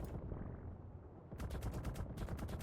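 An underwater turret in the video game ARK: Fjordur fires rapid bursts of gunfire, with a first short burst followed by a longer spray of distinct, closely spaced shots over a dull watery rumble.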